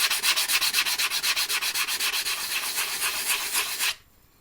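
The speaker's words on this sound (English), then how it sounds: "these are woodworker sanding sponges." Rapid, steady back-and-forth strokes of a woodworking sanding sponge rasp loudly up close, then stop abruptly, leaving near silence.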